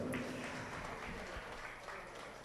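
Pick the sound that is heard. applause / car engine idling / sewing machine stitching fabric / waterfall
applause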